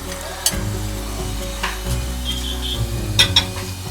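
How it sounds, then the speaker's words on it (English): Red oil poured into a pot of ohā soup sets off a soft, steady sizzle with scattered stirring and light pot clinks, close and moderately loud. "Add your oil into the soup."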